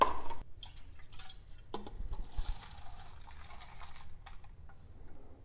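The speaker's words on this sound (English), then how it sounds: "Let's get that gas out of there first." Gasoline poured out of a Craftsman lawn mower, a light liquid trickle and dribble with a few drips, close by and fairly quiet with no talk.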